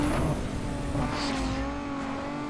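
A Nissan 350Z engine revs hard during a drag race in the video game Need for Speed Underground 2, a loud continuous roar with tire noise that holds steady throughout, with no talking.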